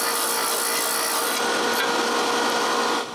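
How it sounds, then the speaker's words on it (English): Small wooden circle pieces being sanded down to size, a steady loud abrasive rasping hiss that runs continuously for about three seconds before easing slightly at the end. "But I still need to sand them to the right size."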